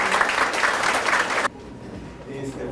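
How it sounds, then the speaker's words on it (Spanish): A lecture hall audience applauds the panel of speakers at a law seminar, a dense steady clapping that cuts off abruptly partway through, leaving quiet room tone. "un fuerte aplauso a nuestros expositores"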